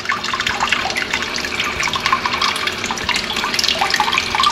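Bidet in a cruise ship cabin toilet on the Diamond Princess sprays a steady, close hiss of water that runs throughout without a break.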